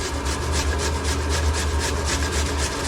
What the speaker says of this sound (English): I grind the potato whole like this